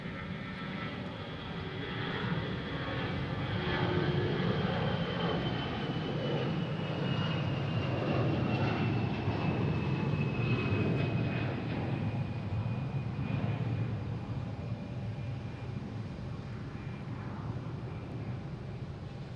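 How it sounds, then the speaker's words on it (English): A Delta jet bound for Minneapolis taking off on runway 22 left at Boston Logan, a loud sustained engine roar with a high whine that slowly falls in pitch as the aircraft climbs away. "Taking off on 22 left."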